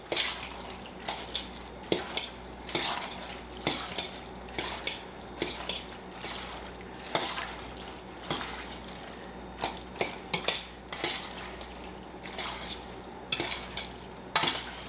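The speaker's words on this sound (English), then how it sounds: "add the meat mixture into the noodles. Give it a stir, mix everything around" Meat mixture being stirred into goulash noodles: repeated close utensil scrapes and clinks against a pot in an uneven rhythm, with soft wet squelches of the mixture and no talking.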